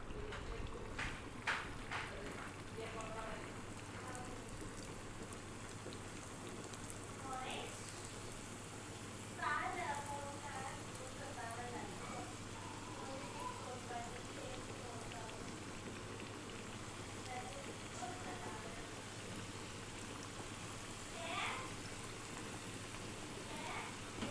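Badusha dough frying in hot oil gives a steady, quiet bubbling sizzle throughout, with a few faint voices over it.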